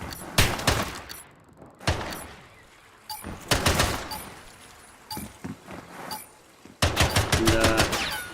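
Gunfire in an e-sports video game round rings out in loud, sharp bursts of rapid shots, separated by short pauses, with a dense final volley near the end.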